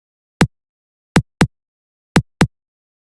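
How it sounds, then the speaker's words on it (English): Five short, dull sidechain key clicks tap out the melody's rhythm in uneven pairs, each one brief and dry with silence between. "Now here I've created a sidechain key that follows the rhythm of the melody."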